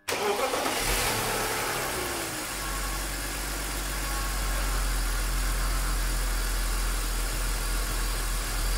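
A BMW M52 inline-six cranks and catches almost at once, then settles into a steady, even idle heard up close and alone for several seconds.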